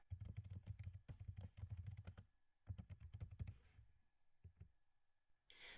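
A username and password are typed into a school reading site's login on a computer keyboard, quick close clattering keystrokes in two rapid bursts followed by a few slower taps, with no talk.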